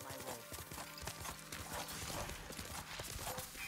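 Galloping horse hooves in the samurai action game Ghost of Tsushima Director's Cut, rapid rhythmic clip-clop thudding close by, fairly quiet, with other game sounds mixed in.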